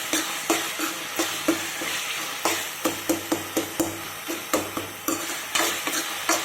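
Onions and tomatoes sauté in a pan for a hotel-style mushroom gravy under a continuous sizzle, while a spoon scrapes and taps the pan in a regular rhythm of sharp clicks, close and clear.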